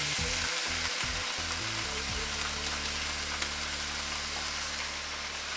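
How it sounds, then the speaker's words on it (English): Chicken stir-fries in a pan with a flavour sachet, a steady loud sizzle with brief scraping stirs near the start, close and without voices. "Okay, and keep on stir frying"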